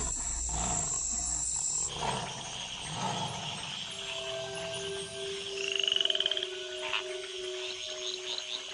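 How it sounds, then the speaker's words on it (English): Tree frogs calling in chorus after the rains in jaguar habitat, a dense rhythmic mass of croaks and chirps throughout, with some nearer repeated pulsing calls standing out over the chorus. "the tree frogs gather for bouts of communal cuckling."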